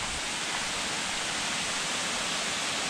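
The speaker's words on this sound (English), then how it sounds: "We have another waterfall here." Steady broadband rush of a waterfall along the Pynursla circuit, a smaller but taller fall, continuous and fairly close with no talk.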